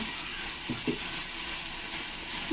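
Tomato paste and spice masala sautéing in a pan for a South Indian fish curry (meen kolambu), a steady soft sizzle and hiss with a few faint stirring clinks, fairly quiet and continuous with no talking.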